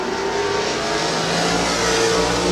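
Stock cars roar around a speedway during a heat race, a dense continuous wall of engine noise from several cars at once, loud and close with no pause.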